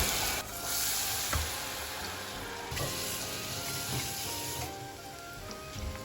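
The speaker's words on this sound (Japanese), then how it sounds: "はい、そしたら揚げていきます。" Flour-dusted tempura pieces frying in hot oil, a dense, continuous sizzle and hiss close up, with a few faint clicks and taps rising through the bubbling.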